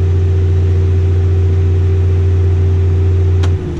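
A New Holland T8050 tractor unloading a grain cart into a truck, a loud, steady engine and machinery drone that runs continuously before winding down and dropping off near the end.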